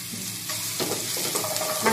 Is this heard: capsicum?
yes